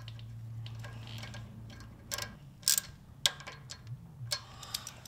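A ratchet turning an 8mm socket to thread a zerk fitting into a Jeep ball joint, a run of faint, uneven clicks close by over a low hum.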